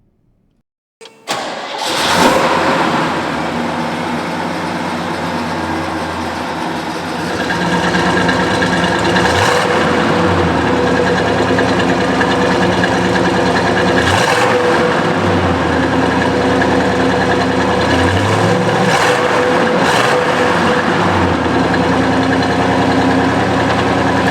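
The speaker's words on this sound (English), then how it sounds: "this one fires up easily, idles well" A restored 1968 Pontiac GTO V8 cranks briefly and fires up loudly, then settles into a steady, rumbling idle that swells slightly partway through, heard close and alone.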